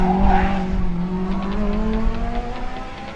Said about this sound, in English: just listen to this car up the straight